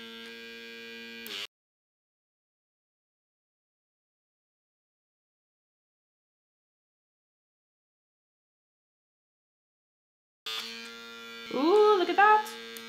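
Small handheld lip plumping suction device running with a steady electric buzz, heard in two bursts at the start and near the end, separated by a long silence. The second burst rises and wavers as the suction changes against the lip.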